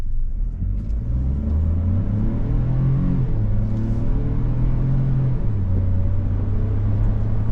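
A 2025 Ford Bronco Sport Big Bend accelerates in sport mode, its engine note rising in steady pitch steps as it gathers speed, loud and continuous with road rumble underneath.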